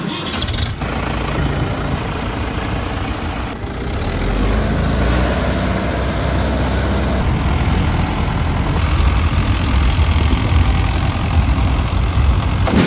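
A Mahindra Yuvo Tech+ 575 4WD tractor engine idles nearby, a steady loud low rumble with a brief shift early on, no voices.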